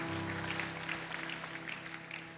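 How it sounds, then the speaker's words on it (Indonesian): A church congregation applauds during a sermon, producing a dense, continuous wash of clapping that tapers slightly toward the end, with a steady low electrical hum beneath it and no talking. "tepuk tangan untuk semuanya saudara"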